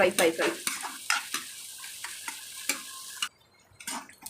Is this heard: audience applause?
no